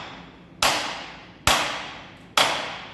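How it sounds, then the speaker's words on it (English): Mallet tapping a steel workpiece down onto parallel bars in a milling vise, three sharp evenly spaced knocks, close and crisp with short decays, no talking. "Take the mallet, a few taps on the handle, and then a few taps on the workpiece"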